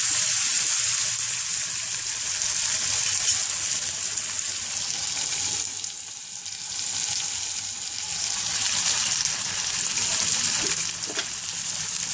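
Wheat rava for upma roasting in a hot pan gives a steady, hissing sizzle with occasional stirring scrapes, holding constant throughout with no talking.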